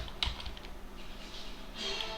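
A command is typed on a computer keyboard, a short run of light, quick key clicks, soft and nearby, with no talk.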